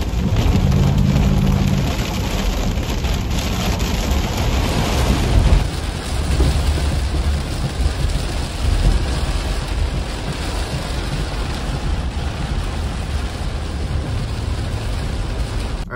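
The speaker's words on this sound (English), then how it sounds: "it started raining like crazy. We do have a thunderstorm warning" Heavy rain pouring down during a thunderstorm, a loud, dense, continuous hiss of falling water with low rumbling beneath, steady for the whole stretch with no voices.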